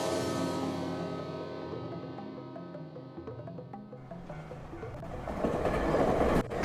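A train sound effect: light chiming tones give way to a rising clickety-clack rumble of rolling rail cars that grows louder toward the end, with no talking.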